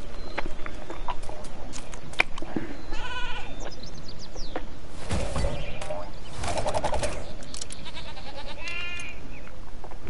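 Sheep enemies bleat repeatedly in the Skylanders Trap Team video game, with several wavering cries over a busy, steady bed of game effects and sharp rapid bursts; no talking.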